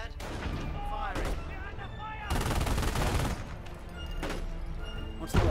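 Bursts of rifle and machine-gun fire in the World War II strategy game Company of Heroes during the liberation of Caen, rattling under overlapping soldiers' voices, with a heavy thump at the end.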